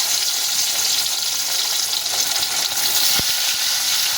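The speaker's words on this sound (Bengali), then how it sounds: "তেলটা আমাদের গরম হয়ে গিয়েছে এবার আমরা মাছগুলোকে ছেড়ে দেবো" Hilsa fish pieces fry in hot oil with a loud, dense, continuous sizzle, close up and unbroken, with one brief knock near the end.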